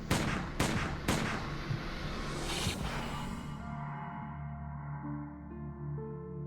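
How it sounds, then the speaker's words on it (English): Gunfire from a documentary soundtrack about a cult shooting that targeted a congressman, reporters and defectors: three sharp, close shots crack in the first second, more blasts follow up to about three seconds, then everything decays into a low sustained tone. "The men opened fire on Ryan, the reporters and cameramen, and the defectors"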